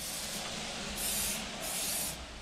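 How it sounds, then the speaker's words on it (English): Silicone spray hisses from an aerosol can onto Sea-Doo personal watercraft engine parts such as plugs, wires and fittings during winterizing, in a few close, steady bursts over a quieter background hiss. "We're just gonna give it a bit of a silicone spray just to coat stuff up"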